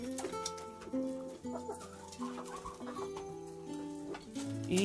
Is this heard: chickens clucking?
yes